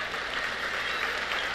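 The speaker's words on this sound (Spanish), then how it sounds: "Un aplauso para Guillermo." An audience at a conference in Bogotá applauds for Guillermo, a steady, dense wash of clapping from many hands that holds evenly throughout with no voices rising above it.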